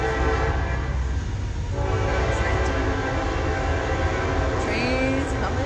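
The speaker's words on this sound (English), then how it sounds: "Train's coming." A train passes close by with a loud continuous rumble and horn blasts, steady and dominant for the whole stretch, with a faint voice beneath.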